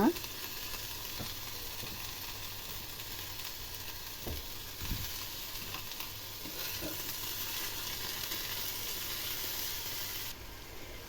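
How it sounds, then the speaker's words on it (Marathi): Medium tomato sautéed and stirred in a pan with ginger, garlic and green chilli for a dhaba-style paneer mutter curry: a steady close sizzle with scattered scraping stirs and occasional clinks, no talk. "आता इथे मी मध्यम आकाराचा टॅमॅटो घेतलेला आहे तो सुद्धा चांगला व्यवस्थित परतून घ्यायचा"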